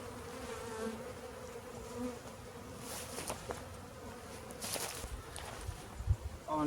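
Honey bees buzzing around a wooden hive box holding frames of nectar and capped honey, a faint, steady drone with individual bees passing close by, plus occasional soft rustles.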